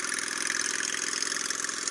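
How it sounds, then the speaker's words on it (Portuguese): A customized Suzuki Shadow-style motorcycle idles steadily with a continuous mid-pitched engine drone, close and fairly loud, no talking over it. "A gente tá indo ali, dar uma voltinha, aquecer os motores, esquentar o óleo"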